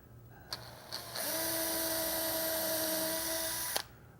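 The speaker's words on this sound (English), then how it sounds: "I'm going to go ahead and pre-drill these too. I'm just using a small brad point bit." A power drill with a small brad point bit whirs steadily for a few seconds, pre-drilling a pilot hole into cabinet face frame material. It is close and even, framed by brief clicks of the trigger at start and finish.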